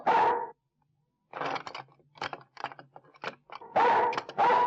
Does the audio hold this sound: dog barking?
yes